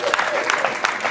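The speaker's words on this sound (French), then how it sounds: "Applaudissez, c'est un grand." Short burst of clapping from the audience at an accountants' gala dinner, with individual hand claps distinct in a brisk, uneven patter, close and moderately loud.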